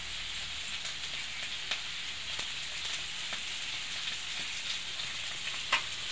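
Celery frying in a pan for sweet and sour, a steady soft sizzle with occasional faint clicks of stirring, quiet and close, with no voices.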